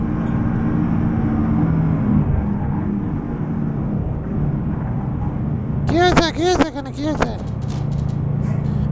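A car engine drones steadily in a Bangladeshi driving game crossing the Padma Bridge, a constant rumbling hum running throughout, with a brief burst of horn-like honks near the end while someone talks over it.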